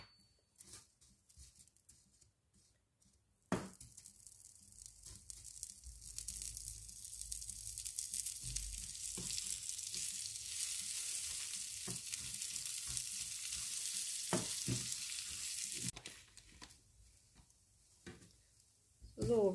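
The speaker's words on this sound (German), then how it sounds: "Und jetzt lassen wir es einfach ein bisschen anrösten. Es muss ein bisschen braun werden." Mie noodles toast in a pan with margarine, a steady close sizzle and crackle that starts suddenly and runs on, with occasional stirring scrapes, under a person talking.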